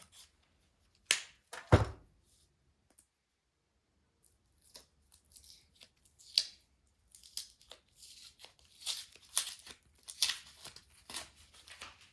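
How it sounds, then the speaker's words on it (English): Masking tape being sliced and peeled off painted hydraulic linkage parts from a Farmall 300 tractor restoration: a couple of sharp cuts early, then a long run of soft crinkling, tearing bursts close by, with no talking. "So we're just going to slice the tape off."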